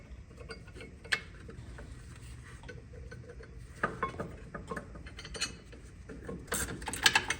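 A ratchet tightens the rear brake caliper bracket bolts on a 2010-2014 Mercedes-Benz E350 (W212), producing faint, sporadic metallic clicks and clanks in a quiet garage, with a brief busier rattle near the end.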